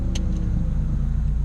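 A car engine idles after a track day, a steady low rumble held close and even for a moment, with no voices over it.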